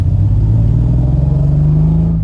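A Triumph TR6 six-cylinder engine driving, a loud, steady low rumbling drone from close by that holds evenly throughout without any voices.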